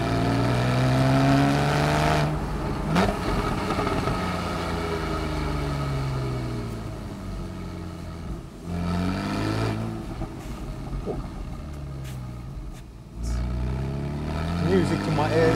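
A 991.1 Porsche 911 Carrera S convertible's sports exhaust burbles and rumbles at low speed in sport mode, the engine note rising and dropping with a few sharp pops.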